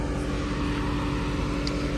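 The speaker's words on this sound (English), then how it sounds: "That's why I like the Borla. It gives that grumble, deep tone muscle car vibe" Dodge Challenger R/T with a Borla active exhaust giving a steady, deep rumbling drone at idle, close and constant with no talking.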